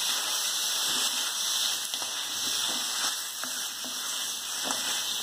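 Chicken frying with softened tomatoes in a pan for a Kerala-style chicken roast, a steady close sizzle with occasional stirring clicks and crackles throughout.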